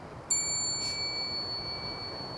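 A bell is struck once on board the SS Atlantic, a clear metallic ding that rings on as a long fading tone over a quiet, hissy background.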